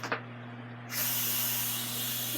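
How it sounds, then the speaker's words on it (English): A loud, steady hiss of steam rushing out of an Instant Pot Duo Mini pressure cooker on quick release begins about a second in and continues without a break, after a short clatter and a low hum. "So this steam will go under my cabinet."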